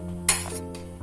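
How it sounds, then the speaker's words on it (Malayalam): A spoon scrapes and clinks against a hot pan while coriander and chilli powder are stirred with spices for chicken pulao, a close, short metallic scrape over a steady kitchen hum. "മല്ലിപ്പൊടിയും മുളക് പൊടിയും ഒന്ന് ഇളക്കി അതിൻ്റെ പച്ച മണം ഒന്ന് മാറുന്ന വരെ ഇളക്കി കൊടുക്കണം"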